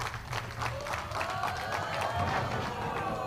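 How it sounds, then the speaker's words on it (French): An audience at a bowling match applauds steadily, a dense continuous patter of clapping with some crowd noise, filling the hall while a player prepares his final ball. "sur les applaudissements du public, il va jouer sa dernière boule"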